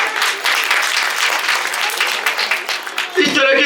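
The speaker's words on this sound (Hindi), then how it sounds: "सभी अध्यापकों के लिए जोरदार ताली" Audience at a government senior secondary school annual function bursts into sustained applause for the teachers, dense clapping throughout with a voice rising over it near the end.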